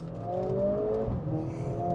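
A Mercedes-AMG A45 S with 420 horsepower and four-wheel drive revs in race mode as its wheels spin slightly, a close, steady engine drone rising and falling in pitch over two seconds.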